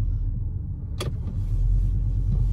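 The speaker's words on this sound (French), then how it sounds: "On fait une petite marche arrière." An Audi RS Q3 engine hums low and steady while reversing slowly, with a brief whirring mechanical sound near the start.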